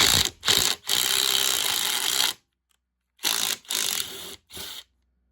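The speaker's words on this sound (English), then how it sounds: "So you just take your impact, put it right up in there." An impact wrench hammers at a seat bolt on a Ford Ranger in several loud rattling bursts, one long run followed by shorter stuttering pulses separated by silence.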